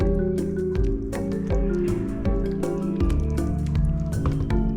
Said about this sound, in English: Let me bung the prawns in.